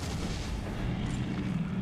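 A grenade blast in the survival-horror game Resident Evil 7: a dense, sustained low rumble of explosive booms and crackling that fills the whole moment at steady loudness, with no voices.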